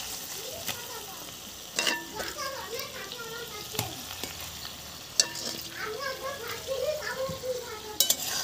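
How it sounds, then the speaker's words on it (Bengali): Singi fish coated in salt and turmeric frying in a cooked-down spice paste for a Bengali fish curry. A close, crackling sizzle runs under sharp clanks of a utensil against the pan, with faint voices in the background. "নুন হলুদ মাখানো মাছগুলো এবার এই মশলার মধ্যে দিয়ে দিচ্ছি।"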